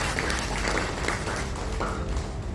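A church congregation gives a round of applause, dense steady clapping filling the room alongside some voices in the crowd.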